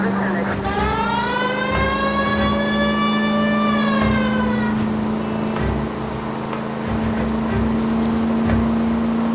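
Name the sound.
police car siren in L.A. Noire video game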